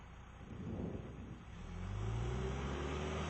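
John Deere 310J backhoe revving at wide open throttle in second gear during a race against a Caterpillar machine; a rumbling engine builds to a steady, louder drone in the second half, no talk.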